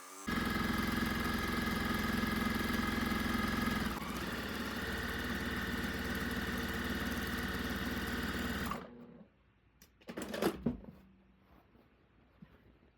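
Sewing machine running steadily up close while stitching sew lines through quilt fabric for half square triangles, a continuous motor hum with a slight shift midway, then stopping, followed by quiet handling clicks.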